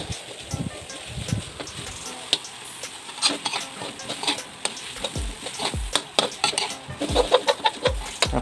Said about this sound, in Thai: ผัดรวนครับผม รวนให้เกือบสุกนะ